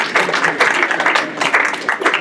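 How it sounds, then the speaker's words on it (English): An audience at an intern pinning ceremony gives a brief round of applause, a short burst of brisk, fairly loud clapping from a modest crowd lasting a couple of seconds, with some voices mixed in. "I think that deserves a round of applause."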